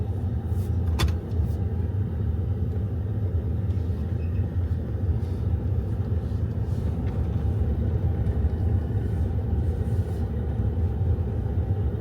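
Peterbilt truck engine pulling up a steep slope on a wooded track; a continuous heavy low rumble, loud and steady, with faint scattered knocks above it.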